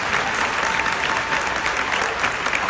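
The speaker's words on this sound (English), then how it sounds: "Clap for yourselves." Audience at a Crown Council live gathering applauding, a steady, dense roar of clapping that fills the room for several seconds without talk.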